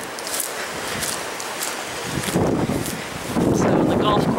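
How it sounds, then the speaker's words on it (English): Strong wind from Hurricane Gonzalo gusts and buffets the microphone, building to loud, rough roaring bursts, with a voice partly heard beneath it. "it's probably so windy you can't hear me."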